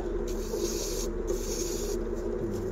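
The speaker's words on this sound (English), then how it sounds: "Light sanding, not a whole lot. Take the edge off of it." Soft, steady sandpaper rubbing on a wood-turned Christmas ornament, a light hiss and a gentle rhythm of strokes, close and quiet, no talking.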